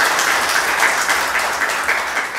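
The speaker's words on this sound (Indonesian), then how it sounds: "Kasih tepuk tangan bagi Tuhan." Worshippers at a church sermon break into loud, continuous applause for God, a thick patter of many hands lasting a couple of seconds.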